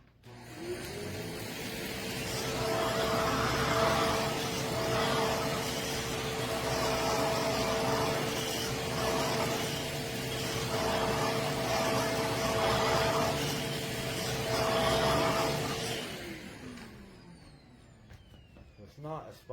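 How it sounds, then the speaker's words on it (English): A BISSELL upright vacuum runs over a stained carpet spot, a steady motor whine with rhythmic surges as it is pushed back and forth, then winds down near the end while a person talks over it. "It's not a spot that the vacuum will get up."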